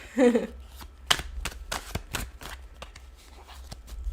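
Tarot cards being shuffled by hand, a string of quick crisp riffles and taps with brief pauses, close and clear, with a short bit of voice at the start.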